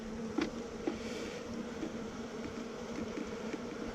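Honey bees from a wild hive, newly moved into a nuc box, give off a steady, low, close buzzing hum, with a few brief louder bumps.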